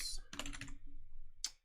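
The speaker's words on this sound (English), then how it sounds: "Oh, I'm doing well on the typing today." Fingers tap quickly on a computer keyboard during a live coding session on a RISC OS kernel, a close, dense clatter of keystrokes with a short pause before one final sharp key press.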